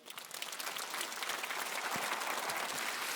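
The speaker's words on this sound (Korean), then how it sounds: "하나님께 우리 박수칩시다" A congregation claps during a Korean Sunday church service, the dense, steady applause swelling quickly and holding at full strength for the whole stretch.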